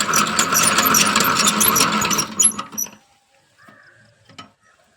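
A hand-rotated honey extractor runs with a loud, steady mechanical whirring and rattling for about three seconds, then stops, leaving near silence with a few faint clicks.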